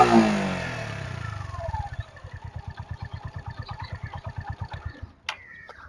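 A 2019 Suzuki GR150 motorcycle's single-cylinder exhaust note, at first a falling rev and then a soft, even, regular thumping idle close by, with a brief clatter near the end.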